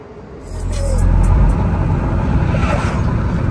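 A C7 Corvette drives along a road on a long road trip, its engine swelling into a loud, steady rumble with road and wind noise after a quieter start.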